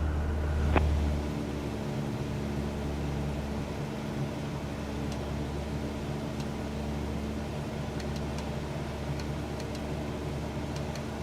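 A steady, droning aircraft engine from Microsoft Flight Simulator 2024, a constant low hum that runs evenly throughout with one brief blip near the start and no talking.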